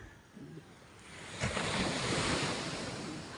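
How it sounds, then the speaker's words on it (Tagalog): Strong wind rushes over a microphone at sea while waves surge and break. A quieter swell in the first second rises into a louder, sustained roar. "sobrang lakas sa hangin"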